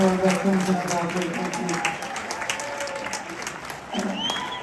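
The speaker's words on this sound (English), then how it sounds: "let's give a round of applause for our veterans and our military." Concert audience applauding veterans and military members in a historic theater, a steady wash of clapping and crowd noise throughout, with tonal music or voice traces underneath.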